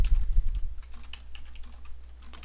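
Rapid computer keyboard typing, a quick burst of close, crisp key clicks that thins to scattered single taps, heard alone over a low steady hum.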